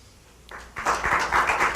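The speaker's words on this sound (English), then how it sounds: "will not have the clapping" A small group claps in city council chambers, starting after a quiet moment and building into a few seconds of moderately loud, uneven applause.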